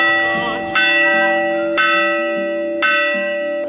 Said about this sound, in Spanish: hay una tradición que se tiene que tocar 3 veces en la campana